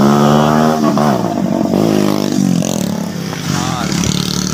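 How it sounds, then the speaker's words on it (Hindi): Motorbike engine revving and passing near a park, a loud, continuous rising and falling drone with clattering overtones that fades slightly toward the end, with a voice talking over it. "हाँ ये तो बाइक जो आवाज़ें करती हैं ना बड़ा गुस्सा आता है।"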